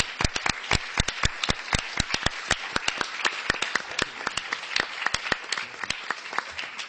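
An audience applauds steadily at a talk on unaccompanied foreign minors in Europe, sharp individual claps standing out over a dense wash of clapping that continues without pause.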